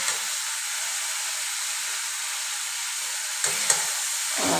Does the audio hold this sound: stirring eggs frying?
yes